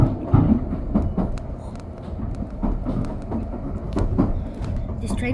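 A steam train rides along the rails with a continuous low rumble and uneven clattering knocks from the carriage, loud and close throughout.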